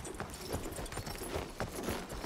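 Horse hooves clip-clop at a steady rhythm in the Battlefield 1 video game, moderately close and fairly loud against a busy background, with no talking over them.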